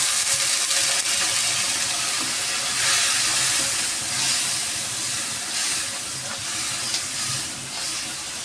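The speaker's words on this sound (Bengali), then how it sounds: "এখন দিব সামান্য পরিমাণে জল।" Water poured into a hot cooking pan with turmeric and chili powder sets off a loud, sustained steam hiss and bubbling sizzle that holds steady and slowly fades, close up, with no talking.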